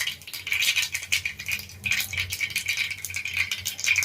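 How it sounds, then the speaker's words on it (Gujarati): Mustard seeds pop in hot oil over medium-low heat: rapid, dense crackling and popping, a fast irregular patter of tiny bursts continuing without pause, heard close up. "રાઈને આપણે ફૂટવા દેશું।"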